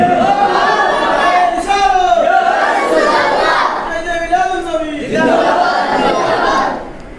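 A large crowd at an Eid-e-Miladunnabi conference in Sunamganj roars a chanted response in loud, sustained waves of massed voices, swelling and falling across several phrases.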